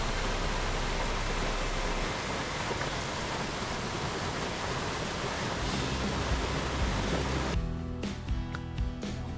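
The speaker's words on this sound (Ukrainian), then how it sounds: "Неймовірні пороги." Carpathian river rapids at a village riverside roar as a steady, dense wash of rushing water, loud and unbroken throughout, with a slight change in texture near the end.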